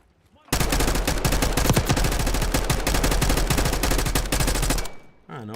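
Sustained, dense gunfire from a video game, a loud unbroken stream of rapid shots lasting several seconds before cutting off abruptly.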